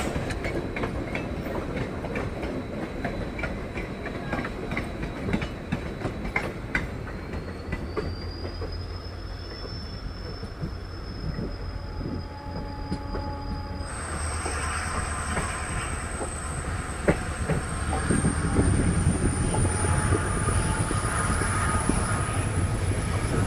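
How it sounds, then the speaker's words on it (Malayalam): A passenger train running late rolls into Mysore railway station, a long steady rumble of wagons on rails with rhythmic clatter and rising high-pitched wheel squeals that sharpen and persist as it slows, loud and close. "ഈ ട്രെയിനിൽ നിന്ന് കുറച്ച് ലേറ്റ് ആയിട്ടാണ് ഇപ്പോൾ മൈസൂർ റെയിൽവേ സ്റ്റേഷനിലോട്ട് ഇത് എത്തിക്കൊണ്ടിരിക്കുന്നത്"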